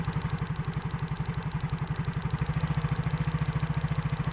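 A Yamaha Mio motorcycle engine idles and revs lightly with a steady, rapid putter, close by and continuous, no voices.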